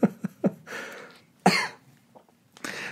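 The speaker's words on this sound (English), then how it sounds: "You just had a little cough there." A man recovering from a cold coughs several times in short, sharp bursts, then gives a longer throat-clearing cough and one more at the end, close and clear, with no talk over it.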